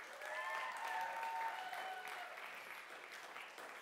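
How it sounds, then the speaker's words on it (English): A youth camp audience applauds performers leaving the stage, a sustained, moderately loud wash of clapping with some whoops and voices mixed in, fading slightly toward the end. "give them a big round of applause"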